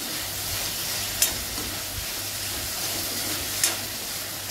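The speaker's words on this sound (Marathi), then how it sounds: "1 चमचाभर जिरं आणि 5-6 लसूण पाकळ्या. हे परतून घ्यायचं आता आपल्याला." Cumin seeds and garlic cloves sautéing in a pan over high gas, a continuous gentle sizzle with occasional sharp utensil taps and scrapes, no speech.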